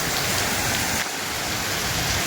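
Torrential typhoon rain pours down steadily during a storm over coastal eastern Visayas, a dense, loud, continuous hiss with no break and no voices.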